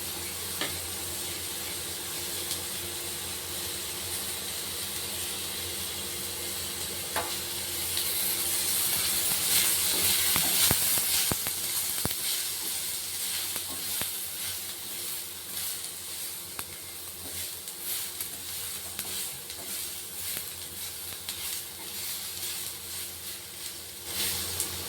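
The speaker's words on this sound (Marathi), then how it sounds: "त्याच्यामध्ये मी आता धने भाजून घेते" Coriander seeds roast in oil in a pan over browned tomato masala for dhaba-style matar paneer, giving a steady close sizzle and hiss with occasional stirring scrapes, with no talking.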